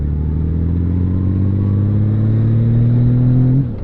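A loud, steady Honda Valkyrie motorcycle engine drone holds its pitch for several seconds, rising slightly before dropping off abruptly at the end.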